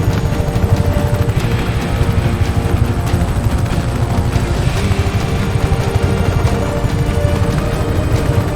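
An attack helicopter in Just Cause 3 drones steadily and loudly, its rotor chop and engine roar forming a dense, continuous wall of sound amid the game's combat noise, with no voices over it.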